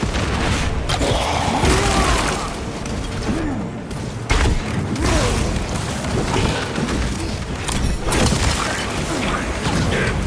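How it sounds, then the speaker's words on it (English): A frag grenade explodes amid a loud Warhammer 40K: Space Marine 2 battle, with heavy booms and sharp blasts punching through a constant roar of combat noise and clanking mechanisms. "Deploying frag grenade!"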